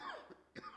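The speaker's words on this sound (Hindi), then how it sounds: "अरे भी मुझे खांसी आ रही थी यार" Two short coughs come from a man in a domestic comedy scene, the first brief and muffled, the second sharper and nearby, with quiet room sound around them.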